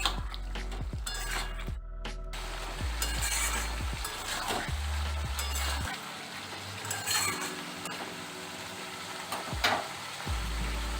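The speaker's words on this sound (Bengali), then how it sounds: "গ্যাসের ফ্লেমটা হাইতে রেখে একটু নেড়ে নিচ্ছি।" Bottle gourd and green chillies fry in a pan over a high gas flame with a constant loud sizzle. Repeated scraping and clinking strokes of a spoon mark the stirring.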